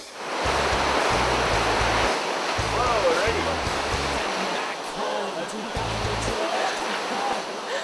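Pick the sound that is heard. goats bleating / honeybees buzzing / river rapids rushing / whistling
river rapids rushing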